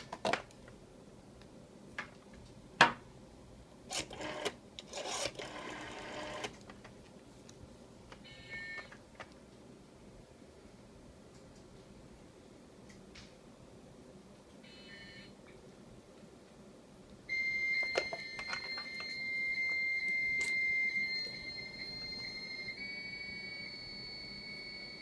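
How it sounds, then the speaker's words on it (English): An Apple II with a vintage acoustic coupler modem dials out: scattered clicks and short bursts of dial tones, then steady, fairly loud paired carrier tones as the connection is made. "We're going to dial it up."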